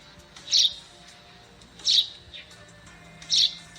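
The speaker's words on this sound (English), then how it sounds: "It's Passer montanus, today's Talkin' Birds featured feathered friend, the Eurasian tree sparrow." Eurasian tree sparrow giving its monotonous, non-musical song: three short, sharp chirps spaced evenly about a second and a half apart, clear and fairly close against a quiet background.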